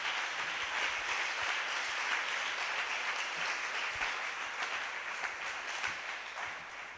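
A church congregation at a prayer and fasting service claps steadily, a dense continuous wash of applause from a mid-distance crowd, with no talk over it.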